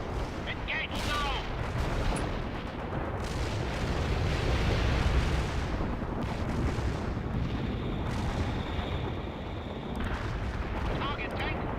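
Tank gunfire and explosions in the World in Conflict video game, a dense continuous rumble of heavy booms and blasts with layered battlefield noise, steady and loud throughout, with radio-style voices speaking over the din.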